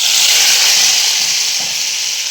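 Loud, steady sizzling hiss of spices frying in hot oil as a tempering for saag, close up and continuous, with no talking.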